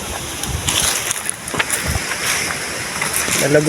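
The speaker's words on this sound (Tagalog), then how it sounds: "Sobrang lakas ng hangin." Strong wind buffets and roars across the microphone in gusty rushes, with faint voices and rustling mixed in.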